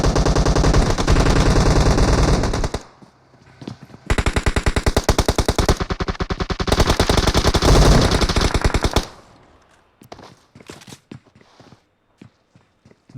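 Gunfire from PUBG Mobile during a custom-room match in a settlement: long, loud bursts of rapid automatic fire separated by a brief pause, then scattered single shots and footsteps trailing off near the end.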